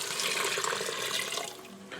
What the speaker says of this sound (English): I'm going to add in 3 cups of beef broth.